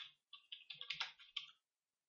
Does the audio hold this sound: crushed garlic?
no